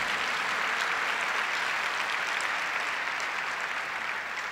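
A church congregation applauding in worship, a steady, even wash of many hands clapping at moderate distance, sustained throughout without speech over it.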